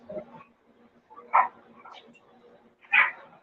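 A dog barks indoors, two sharp loud barks spaced about a second and a half apart, with softer yips and low household noise in between.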